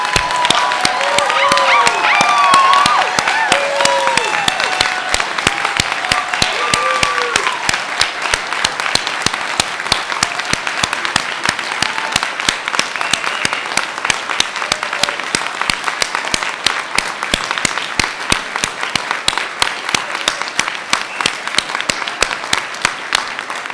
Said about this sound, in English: please join me in a warm round of applause for our graduates, class of 2017